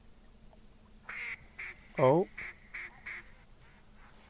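Ducks give a run of short, repeated quacking calls from a duck hunting spot, nasal and evenly spaced over a quiet outdoor background, with one louder, lower honking call in the middle and a brief spoken exclamation.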